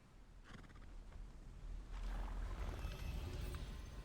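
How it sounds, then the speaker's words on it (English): A horse neighs and whinnies in the fantasy video game Final Fantasy 16, a faint, rising animal cry over a rushing, windy background that swells toward the middle and stays fairly loud. "There's the horse."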